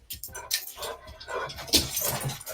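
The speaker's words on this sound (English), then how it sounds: "Something's happening in my house. I'm not sure what it is, but the dogs are letting me know about it." Dogs barking and yipping indoors in a house, several excited barks and whimpers in irregular bursts at moderate loudness, with no talking.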